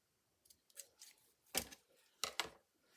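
Scissors trimming lace for index card tags, a few quiet, close snips in short bursts, two sharper cuts standing out amid faint rustling.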